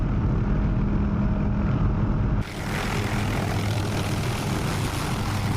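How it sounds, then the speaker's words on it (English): An OH-6 helicopter flying past in the DCS combat flight simulator produces a loud, continuous engine and rotor drone whose tone shifts abruptly partway through as it passes. "Let's see if we get a nice little flyby of the OH6."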